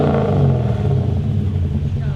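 A Lexus V8 swapped into a drift truck revs close by with a loud, rough engine roar that rises and falls briefly. Voices can be heard over it.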